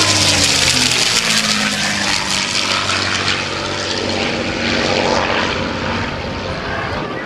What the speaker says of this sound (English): Here's the Thunderbolt now, putting that left wing down towards the earth to give you the top platform view of the mighty Thunderbolt.